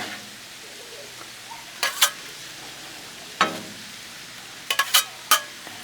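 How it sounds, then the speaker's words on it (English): Shrimp stir fry sizzles steadily on a Blackstone griddle, a soft continuous hiss broken by a few sharp spatula clicks and scrapes against the flat top, no voices. "Stir up these shrimp"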